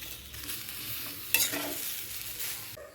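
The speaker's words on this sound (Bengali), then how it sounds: "বেশ কিছুক্ষণ নাড়ার পর" Vegetables being stirred in a pot for an oil-free one-pot vegetarian dish, soft scraping and shuffling of the spoon with a brief louder clatter midway, fairly quiet and with no talk.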